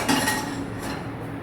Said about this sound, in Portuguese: Vem a nossa panela,